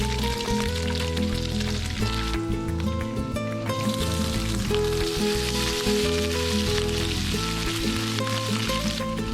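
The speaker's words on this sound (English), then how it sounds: "Dump the meat in and it should sizzle immediately." Steady, loud sizzling and crackling of wild turkey meat frying in hot lard for carnitas, continuous throughout with faint music underneath.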